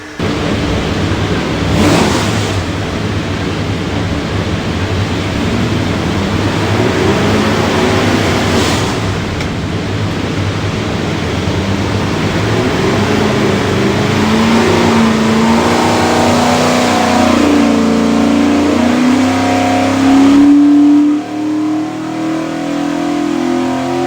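A Borla stack-injected 427ci Ford V8 roars steadily on a dyno for a long pull, its note climbing smoothly in pitch as revs rise, then cutting off near the end, loud and close.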